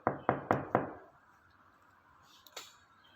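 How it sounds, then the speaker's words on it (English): Four quick, light knocks rap on a wooden door in an even rhythm, close and crisp, followed by a short pause and then a couple of fainter clicks. "arrived at grandma's and knocked lightly at the door"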